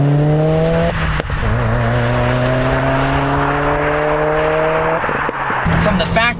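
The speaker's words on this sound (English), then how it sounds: "this FA20 DIT engine doesn't have unequal length headers, it makes a noise that's different than all the other STIs and WRXs" A 2017 Subaru WRX Limited with the FA20 DIT engine and aftermarket exhaust gives a loud, close droning exhaust note that rises and falls steadily, with a brief break partway through and a rustling noise near the end.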